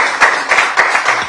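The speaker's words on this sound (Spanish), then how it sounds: "podemos dar un aplauso, que yo creo que lo han hecho bien" Applause at a conference on regional sports safety regulations: a small group claps in a steady, even beat, with several crisp claps spaced about a quarter second apart.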